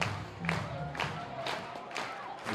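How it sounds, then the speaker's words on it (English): Crowd at a Friday night baseball game clapping and cheering from a distance, a soft, steady wash with a few rhythmic bursts of claps roughly every half second. "Crowd into this one now on a Friday night."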